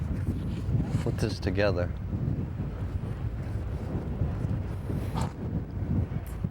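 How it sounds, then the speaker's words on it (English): Strong wind buffeting the microphone outdoors on Block Island, a loud low rumble and roar that stays constant while someone talks over it. "that wind is blowing wild"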